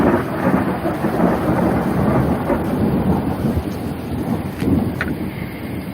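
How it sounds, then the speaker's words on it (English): Steady heavy rain with rolling thunder during a thunderstorm at planting season, a dense continuous wash of rainfall and low rumbles filling the whole stretch, no voices. "just in case I actually have to get out there in the rain"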